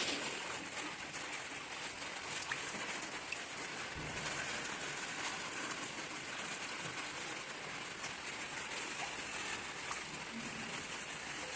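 Pantua dough balls fry in hot oil with a constant, dense crackling sizzle, steady and fairly loud throughout like heavy rain.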